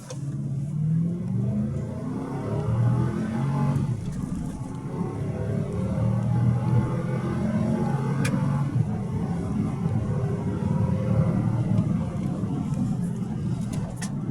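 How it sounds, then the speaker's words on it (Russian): A Toyota Land Cruiser 200 with a 4.6 engine running on LPG accelerates hard from a standstill, its engine note droning and climbing steadily through the gears at close range, loud and continuous throughout. "Едем разгон на газе, двухсотка на газе."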